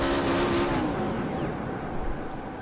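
A car engine in a racing video game drones steadily as the car is driven into a corner toward the apron, with a brief higher engine tone at first that fades into a broad, continuous roar.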